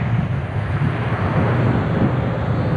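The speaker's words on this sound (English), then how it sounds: "The wind is pretty strong." Strong gusting wind buffeting a microphone outdoors near a flying Eachine P-40 Warhawk micro RC fighter plane, a loud continuous low rumble with no voices.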